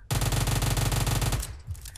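Gunfire in the PUBG video game rattles out as a loud, rapid automatic burst of evenly spaced shots for over a second, then stops abruptly.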